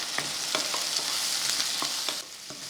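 Tomato and tamarind sautéing in a pan for peanut chutney, a steady sizzle with a few soft spatula stirs and scrapes, close and continuous with no talk.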